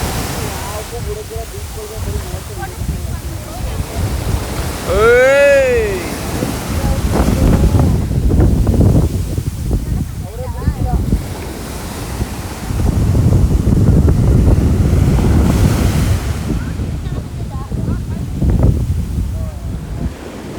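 Ocean waves wash onto a beach in Goa, rolling in loud, broad surges mixed with strong wind buffeting the microphone, while faint voices carry in the background.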